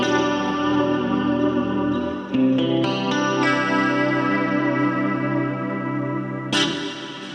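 A Quad Cortex guitar preset plays extra clean with reverberated delay and compression, giving sustained shimmering chords with chorus-like wash that change a few times, loud and alone.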